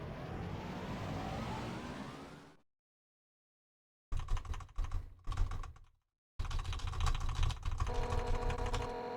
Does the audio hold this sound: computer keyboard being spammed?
yes